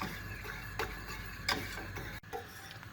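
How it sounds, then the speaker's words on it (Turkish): A spoon stirring sauce in a pot on the stovetop before it boils, with soft, irregular scraping and tapping over a faint background hiss. "Sosumuz kaynayıncaya kadar ocakta karıştırıyoruz."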